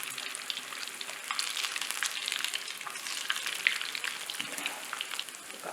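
Small dough balls fry in hot oil for a festival meal, giving a steady dense crackling sizzle with scattered sharper pops throughout, fairly close and with no voices.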